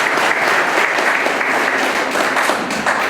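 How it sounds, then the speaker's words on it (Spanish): A church congregation at a May 3 Holy Cross celebration claps loudly for the children after Mass, a thick continuous wash of applause close by with no speech over it. "Vamos a darles un fuerte aplauso a los niños."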